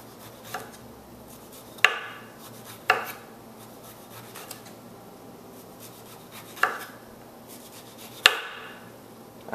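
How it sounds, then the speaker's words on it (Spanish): A knife peeling a non-organic lemon, heard as soft scraping broken by about six sharp, irregular knocks of the blade, close and clear with no talking. "este limón lastimosamente no es orgánico, entonces por eso lo pelo"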